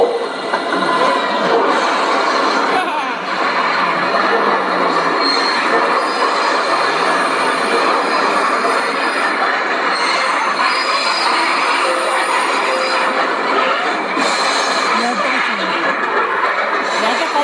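The Coromandel Express rolls along the tracks with a continuous loud rumble of wheels and railcars, plus squealing wheel tones and rhythmic clatter.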